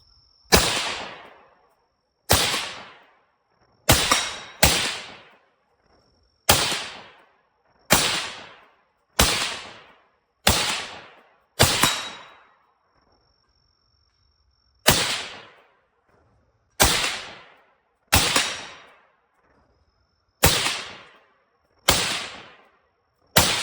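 An LWRC IC-A5 rifle fires about fourteen loud, sharp single shots at irregular intervals of one to two seconds, each with a short decaying echo outdoors, and there is a longer pause midway.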